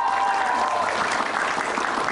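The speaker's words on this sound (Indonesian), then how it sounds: "Boleh kita berikan tepuk tangan meriah buat mereka?" Studio audience applause on a talk show, a short, loud, steady wash of many hands clapping together.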